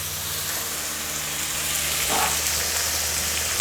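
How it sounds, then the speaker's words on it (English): Chicken pieces sear in a pan, a loud steady sizzle and frying hiss with a brief burst of crackle midway, no talking. "Okay, so our chicken is browning nicely."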